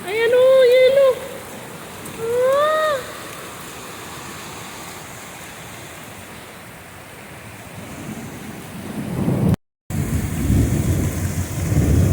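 Rain hisses steadily after a few short calls at the start, then a heavier, louder downpour with hail surges in near the end.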